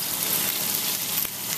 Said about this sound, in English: You can see sizzling away.